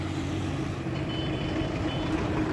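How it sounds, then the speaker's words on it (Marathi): Traffic on the Nagar-Pune highway near Lonikand, with a steady low rumble of trucks and cars passing close by and a faint reversing beep in the background. "आता तुम्हाला गाड्यांचा आवाज येत असेल बराच तर मित्रांनो हा आहे नगर पुणे हायवे"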